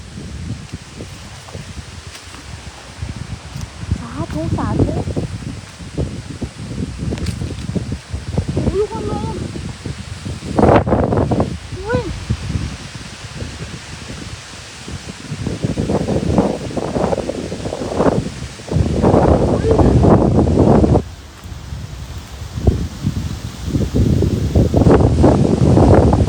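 Strong gusting wind buffets the microphone at Phaya Nak cave, a pilgrimage site in Thailand, as a loud roaring rush that surges and eases throughout, with people talking intermittently.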